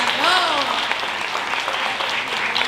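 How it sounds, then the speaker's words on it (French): An audience at a volunteers' evening applauds two contestants, dense clapping filling the room with a voice briefly heard over it at the start. "on peut les applaudir"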